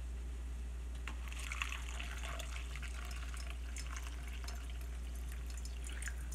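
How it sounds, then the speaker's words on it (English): Pine needle tea drains through a paper coffee filter into a coffee cup, a steady trickling and dripping stream of liquid over a constant low hum, with no voices. "This will allow it to drain into my coffee cup. So I'm going to pour"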